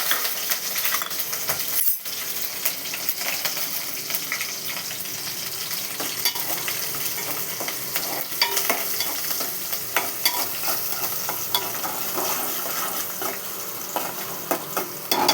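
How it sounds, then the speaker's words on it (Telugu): Green chillies, onion and curry leaves fry in a pan, giving a steady close sizzle with frequent scraping and clinking as they are stirred, and a sharp knock near the start. "అది వేగినాక పచ్చిమిర్చి, ఉల్లిపాయ, కరివేపాకు ఇవన్నీ వేసుకోవాలి. కొంచెం గోల్డ్ కలర్ వచ్చేదాకా వేయించుకోవాలి."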